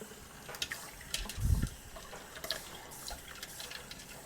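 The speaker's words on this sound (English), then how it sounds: "And you want the water to run clear." Tap water running while homemade butter is rinsed and squeezed by hand, a soft continuous trickle with a brief louder splash and some wet handling noises, close by.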